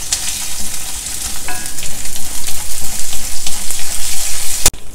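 Urad dal and chana dal frying in a pan, with a loud, close, crackling sizzle and rhythmic scraping stirs that pulse steadily throughout, ending in a sharp clack.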